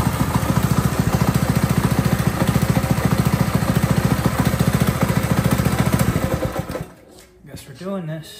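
Small engine on a Razor Ground Force snow kart, fitted with a backwards-mounted clutch, runs with a steady rapid putter for about six seconds, then dies away into quiet with faint voices at the end.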